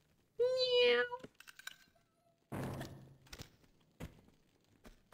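A person's voice imitates a cat with one drawn-out, whiny meow, followed by thumps and brief rustling noises in a quiet room.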